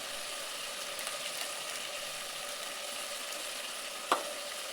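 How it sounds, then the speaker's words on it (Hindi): Ground spices—coriander and chili—sizzle steadily in a pan for aloo methi matar, a quiet continuous frying hiss with one brief sharp clink near the end. "अब इस सब को हम फ्राई कर रहे हैं"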